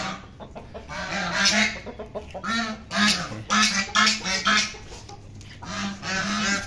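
Aseel hens and a rooster clucking and honking close by while pecking at scattered rice, their short calls coming in irregular bursts, with ducks nearby.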